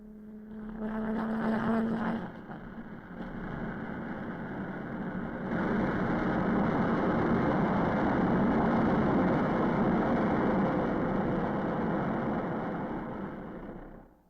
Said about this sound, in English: Engine run-up was a necessary prelude to flight test